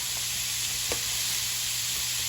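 Sausage filling for spring rolls stir-fries in a pan, giving a steady, close hiss of sizzling with a few faint scraping stirs and no talk.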